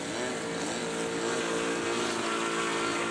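A scale model Maule aircraft taxis out, its small engine holding a steady, droning buzz at constant power for the whole stretch, close and fairly loud with no voices.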